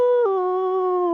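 A human voice imitates a fanged wolf, letting out one loud, sustained, steady howl-like tone held for the whole moment with no other sounds.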